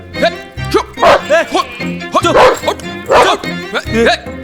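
Repeated yapping dog barks in a tense scene from the 2014 Tamil film Naaigal Jaakirathai, loud and close, several rapid barks interleaved with men's agitated speech.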